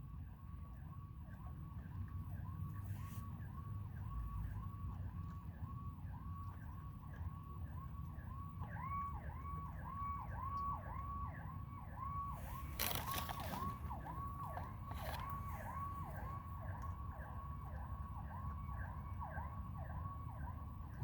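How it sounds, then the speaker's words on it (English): Police car sirens wail in a steady, repeating rising-and-falling cycle throughout, moderately distant and continuous, over a low background rumble with a brief burst of noise partway through. "I hear the police coming towards that gunshot."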